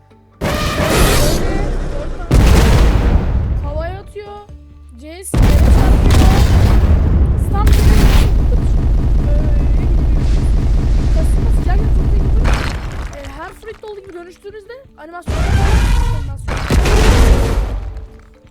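Heavy thudding ground slams from a mammoth character jumping and smashing down in the Blox Fruit game, several loud booming impacts separated by short silences, with rumbling debris after each hit.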